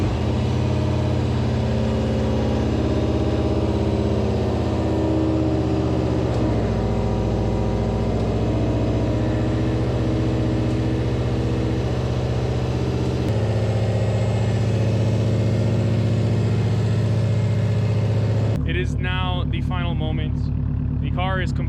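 A 2015–2020 Subaru VA STI with a swapped EJ20Y engine starts for the first time and settles into a steady, droning idle close by, with a voice briefly heard near the end.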